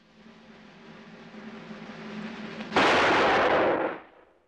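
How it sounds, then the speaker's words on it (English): A single sharp report from a fast-draw revolver fired at a mark, loud and close, cutting in suddenly after a low steady hum and ringing briefly before fading. "I'm gonna put a bullet hole right in the middle of that mark"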